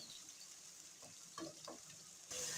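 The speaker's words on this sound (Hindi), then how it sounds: "तमाम मसालों को अच्छी तरह से हमने चंद सेकंड तक फ्राई करना है।" Spices and green chillies for matar pulao frying in hot oil, a quiet steady sizzle with a few soft stirring scrapes and a brighter hiss rising at the end.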